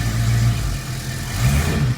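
A 1973 AMC Hornet engine is revved with the throttle, its rough, loud idle rising and falling in close, sustained surges of mid-pitched engine roar.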